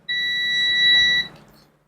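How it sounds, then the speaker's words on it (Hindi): A multimeter on its continuity setting gives a single steady, high-pitched beep, loud and held for about a second, as its probes touch a shorted circuit track on a Samsung Galaxy phone board. "यहाँ पे देख रहे हैं तो ये हमारा बीप बता रहा है, मतलब ये शॉर्ट है, ये ट्रैक शॉर्ट है।"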